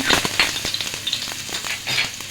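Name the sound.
chopped onions frying in oil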